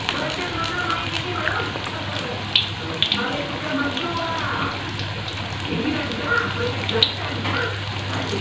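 Tempeh frying a few pieces at a time in hot oil, giving a continuous close crackling sizzle with scattered sharper pops and a low steady hum underneath.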